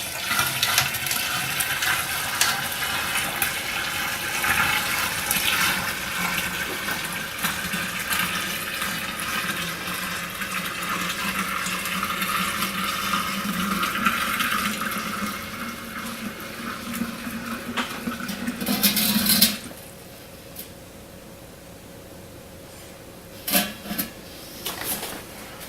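Cooled beer wort being poured into a carboy of ice water, a loud sustained gushing and splashing pour that cuts off abruptly partway through, leaving quiet with a couple of brief sloshes afterward.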